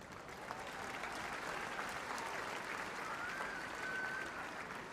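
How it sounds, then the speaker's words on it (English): A large audience at a dog agility event applauds in a steady, dense wash of clapping that holds throughout, heard from a distance in a big hall. "please keep the applause going for our presenters"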